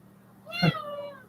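A house cat gives a single drawn-out meow, close and fairly loud, rising then trailing off over about a second with a faint low hum in the background.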